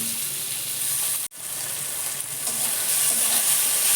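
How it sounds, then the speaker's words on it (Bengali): Tomatoes fry in a pan for a fish curry, giving a close, steady sizzle and crackle that continues throughout, with one very brief dropout early on. "আমার টমেটোটা মোটামুটি ভাজা হয়ে গেছে"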